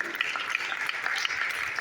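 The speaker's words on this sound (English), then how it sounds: "Give a round of applause, please." Faint, short burst of audience applause during a prison sermon, a soft continuous patter of many hands with no voices over it.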